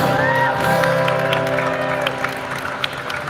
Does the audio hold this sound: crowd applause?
yes